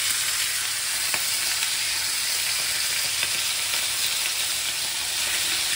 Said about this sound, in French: on va prendre nos tendrons et on les dépose et on va les faire revenir sur chaque face